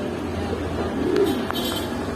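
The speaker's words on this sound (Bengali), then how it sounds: "আরেক জোড়া পাঙ্কি ফেডের কবুতর আছে" Pigeons give a brief low coo in the middle of a steady noisy backdrop, with a couple of faint clicks afterward.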